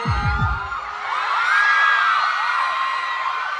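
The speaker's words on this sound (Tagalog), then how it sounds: "Wala na lalamunan itong mga babaeng to. Grabe tumili." Screaming women fill a concert crowd at an anniversary show at Davao Crocodile Farm, a loud sustained wall of high shrieks and cheers after a few opening thumps.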